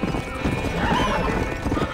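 Horse hooves clip-clopping in the Western game Red Dead Redemption, a close, rapid, even gallop with a whinny mixed in.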